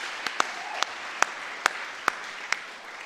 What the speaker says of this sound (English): So I think we should give them a round of applause for that.